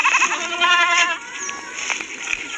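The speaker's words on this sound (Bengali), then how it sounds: "এই ছাগলটা সকাল থেকে কেমন চেঁচাচ্ছে" A goat bleats loudly and close by, a run of strained, wavering calls. It is a mother that lost both of her two newborn kids and has been crying out since morning.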